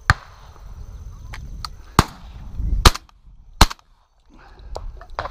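Sharp shotgun blasts during a bird hunt in Argentina, several loud cracks spaced irregularly over rustling field noise, with a couple of fainter distant shots mixed in.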